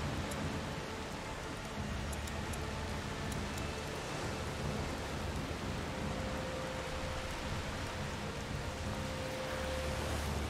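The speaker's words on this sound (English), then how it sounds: "The rain is getting worse. It's just a storm." Steady rain hisses over a low rumble of distant thunder in the video game A Plague Tale: Requiem, a continuous stormy wash with no voices.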